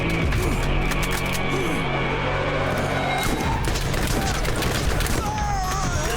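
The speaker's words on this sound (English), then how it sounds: "Heck yeah, put in the work, Scorpio turret." The Scorpio turret firing in the Borderlands game during the Claptrap's New Robot Revolution add-on, a dense continuous barrage of gunfire and impacts layered with game effects and someone talking.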